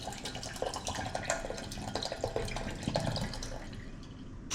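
Water from a freshly cracked coconut pours and trickles into a container, a soft, continuous splashing stream that runs close by with no talk over it.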